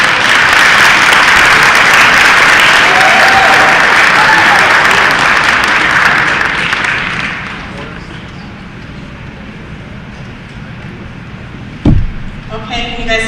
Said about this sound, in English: let's give a round of applause for Dr.